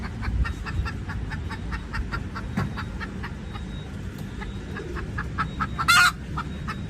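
A chicken clucks repeatedly inside a car, its short rhythmic calls close and clear over a low rumbling background, with one louder squawk near the end.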